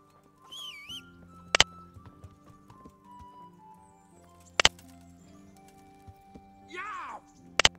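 Horse riding in the medieval video game Kingdom Come: Deliverance: hooves clip-clop in a loose rhythm over a music bed, with loud sharp hits and a couple of neighs or whinnies.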